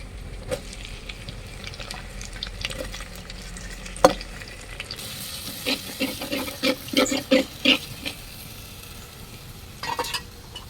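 Crushed shallots and garlic fry in oil in a pot over a wood-fired stove, giving a soft sizzle under repeated close stirring clinks and scrapes, with no voices.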